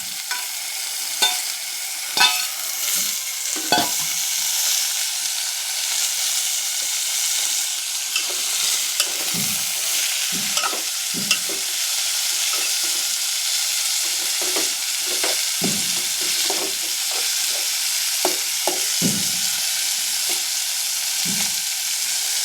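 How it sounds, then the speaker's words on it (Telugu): Curry leaves and cluster beans sizzle steadily in a hot pan, a continuous close frying hiss broken by frequent scraping knocks of a stirring spoon, with no voices. "పాకు వేగినాక గోరుచిక్కుళ్ళు వేస్తున్నానండి"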